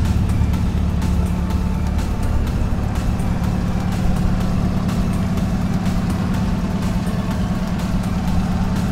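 A 1976 Toyota Corona Deluxe engine idles steadily nearby, a loud continuous low rumble with faint clicks over it.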